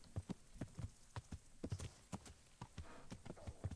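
Horse hooves clip-clop in the medieval role-playing game Kingdom Come: Deliverance, a steady run of sharp, close hoofbeats at walking pace with faint background ambience and no talk.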